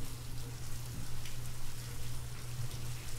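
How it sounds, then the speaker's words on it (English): Rain in the video game Signal Simulator hisses steadily and evenly, a constant wash of falling drops with a low hum beneath, no voices. "Raindrops are falling."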